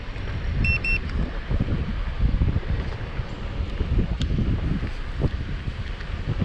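Wind roaring across the microphone while riding outdoors on a trail toward downtown, a constant loud buffeting rumble with gusty flutters throughout and no talking.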